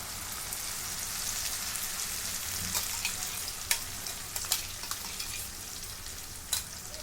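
A paste of green chili, coriander, mint, ginger and garlic roasts in a pan with onion for an egg hariyali dish. It makes a steady, close, broadband sizzle, with a few sharp clicks of stirring scattered through.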